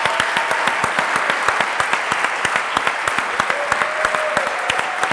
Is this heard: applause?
yes